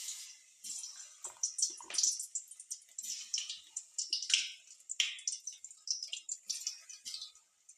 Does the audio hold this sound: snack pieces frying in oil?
yes